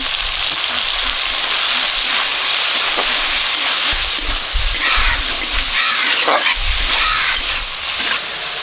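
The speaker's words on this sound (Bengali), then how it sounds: "চিংড়ি মাছ ভাজা হচ্ছে ওদিকে" Shrimp frying in hot mustard oil, a loud continuous close sizzle with occasional stirring clatter and bursts of spattering, no speech.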